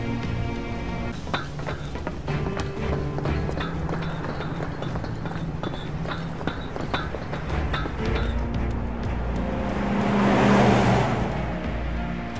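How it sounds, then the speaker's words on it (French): A Shinra truck in the video game Final Fantasy VII Remake drives past, a rumbling engine and rhythmic mechanical clatter over game ambience that swells into a louder whooshing pass near the end. "Ce camion-là, c'est un véhicule de la Shinra."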